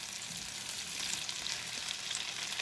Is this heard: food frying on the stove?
yes